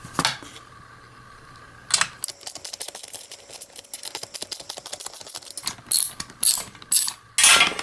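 Ratchet clicking as two 10mm bolts are backed out of a stock 2015 Scion FR-S rear spoiler, rapid pawl ticks in bursts with a few sharper metallic clacks between, close and clear with no talk.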